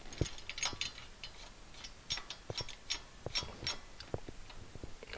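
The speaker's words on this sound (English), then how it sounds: "So the table itself screws in the side here." Table of a Robert Sorby Pro Edge sharpening system being screwed into place, heard as faint, close ratcheting clicks and small metallic ticks in an irregular rhythm over a quiet background.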